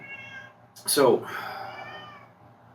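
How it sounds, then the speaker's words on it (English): A pet cat locked in a bathroom lets out one loud, drawn-out meow, close by, with a person speaking briefly alongside it and faint background tones. "my cat does not like being locked in the bathroom"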